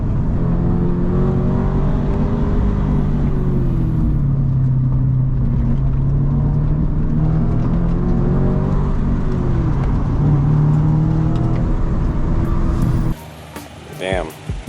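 Toyota GR86 sports car fitted with Endless brake pads drives hard, its engine droning loud and steady with rising and falling revs for most of the stretch before cutting to scattered lighter noises at the end.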